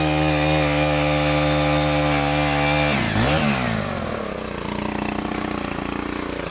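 A powered auger drilling post holes in rocky ground for a polytunnel build, with a loud, steady engine drone that dips and shifts pitch midway as the bit bites and strains, then carries on running.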